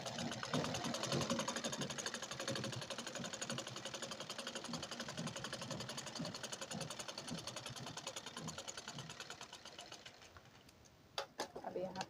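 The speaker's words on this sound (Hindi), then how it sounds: "किनारी में लगाएंगे सिलाई।" Close, loud sewing machine stitching along the border edge of a blouse, a fast continuous mechanical whir and clatter that runs steadily for about ten seconds, then slows into a few separate knocks and clicks at the end.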